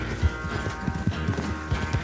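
A horse gallops in Red Dead Redemption 2, quick rhythmic hoofbeats thudding over a steady background of game ambience and wind, close and continuous.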